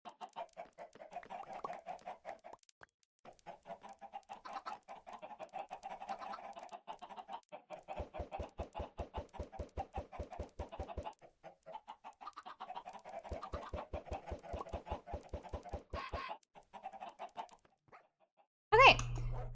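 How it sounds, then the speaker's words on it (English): Chickens in a Minecraft-style game cluck again and again in short repeated bursts. A player talks faintly underneath. A sudden louder game noise cuts in at the very end. "Oh gosh, these chickens."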